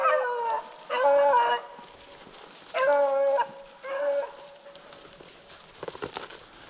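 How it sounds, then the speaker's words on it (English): A female dog barks out of doors right after chasing a rabbit, several loud, harmonic, howling barks in bursts, then quieter noises and rustling near the end. "That was her barking."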